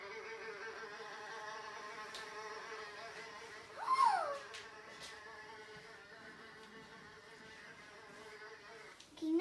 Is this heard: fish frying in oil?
no